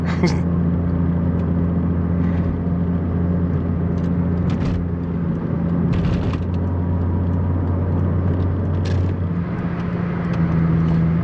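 A Chrysler Crossfire SRT-6 drives along with a steady, loud engine drone and road rumble heard from inside the car, continuous throughout.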